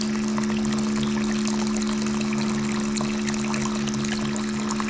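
A rechargeable pump on a 5 gallon water tank runs with a constant electric hum while water pours and splashes steadily, loud and close throughout.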